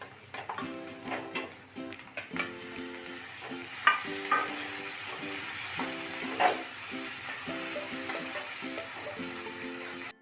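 Chopped tomato with a pinch of asafoetida sizzles steadily in a pan, with repeated scraping and stirring clinks over the frying hiss, no talking.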